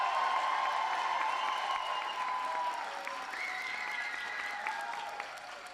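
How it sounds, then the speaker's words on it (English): Crowd applause for state legislators at a New Jersey governor's bill signing for a driver's license law, a sustained indoor clapping from many hands with some whistles over it, fading slightly toward the end. "let's give a huge round of applause for the members of the legislature who are with us today"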